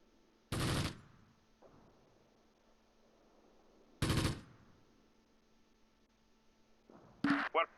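Machine gun fire in the WWII strategy game Close Combat near Caen: two loud, short bursts a few seconds apart, a closer crackling burst at the end, faint background rumble between them.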